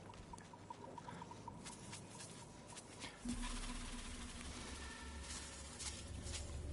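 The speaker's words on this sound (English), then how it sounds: "Oh guys, it's raining. This is really bad news." Steady rain patters and hisses over a muffled background in the video game Bootstrap Island, growing slightly heavier halfway through, with faint tones underneath.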